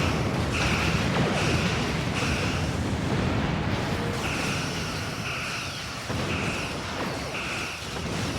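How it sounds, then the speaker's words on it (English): Dense, continuous rumbling blasts and booms in Star Trek Online roll on without pause, loud and close, with sharp bursts cutting through a thick wall of noise. "That's a lot of fucking explosions."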